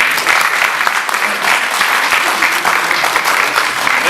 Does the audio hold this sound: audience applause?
yes